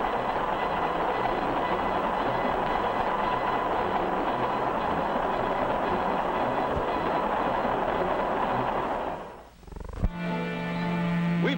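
A 1950s train runs on rails with a continuous rumbling roar and steady rolling noise, then the sound briefly dips and shifts into a changed, closer rattle near the end. No voices are heard.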